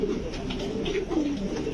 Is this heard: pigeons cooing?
yes